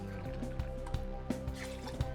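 Vodka pours into a cocktail shaker tin for an espresso martini, a faint trickle with several soft, evenly spaced drip-like plops.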